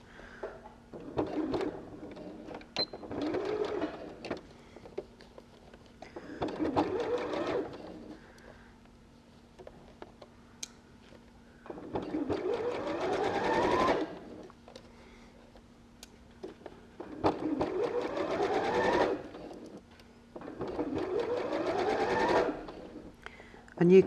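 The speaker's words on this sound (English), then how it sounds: "you carry on sewing across this part of the pouch, this straight edge, and it goes up around the corner" A sewing machine stitches across the front of a triangle pouch in about six separate bursts of steady mechanical whirring, close and clear, with quiet pauses between runs.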